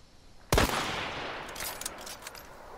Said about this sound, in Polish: Dwa strzały chybione.